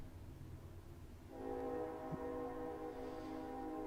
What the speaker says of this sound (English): as you can listen to my train go by.